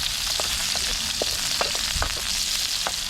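Ginger sautés in hot oil in a pan, a loud steady frying hiss with small crackles and pops scattered throughout.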